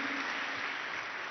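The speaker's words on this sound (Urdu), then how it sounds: "بھرپور تالیاں دی" Steady applause fills the hall at a Punjab government loan ceremony, an even wash of many hands clapping together, fairly distant and uniform throughout.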